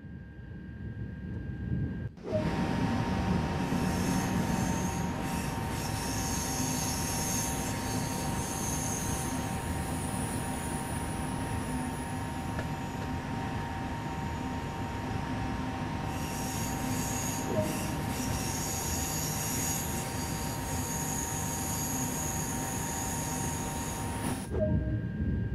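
A GEC Alstom TGV Duplex of SNCF on the LGV Méditerranée in Train Sim World 2 rolls along at speed, a steady loud rumble of wheels and motors with faint squeals and hum, starting abruptly and cutting off near the end.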